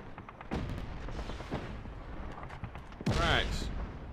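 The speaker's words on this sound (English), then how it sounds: "Plenty of explosions going off." Booms and sharp blasts go off at irregular intervals in Just Cause 3, one loud burst near the end, over a steady background rumble of game action.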